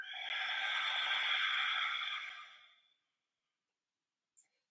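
A long, steady exhale of breath during a yoga session, close and breathy, lasting a few seconds and then fading, followed by silence and a tiny click.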